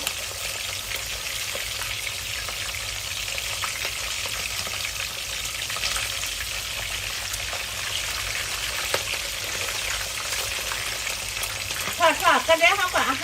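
Pork and fish fry in a pan with a steady, moderate sizzle and crackle throughout, joined near the end by a few short clatters or voice sounds.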